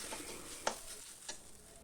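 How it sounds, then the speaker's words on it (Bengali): Taro (gathi kochu) frying in oil until reddish, a faint steady sizzle with two brief clicks of a utensil against the pan. "এইগুলোকে খুব ভালো করে ভাজতে হবে একদম লাল লাল করে যেন এর মধ্যে একটুকু জল না থাকে"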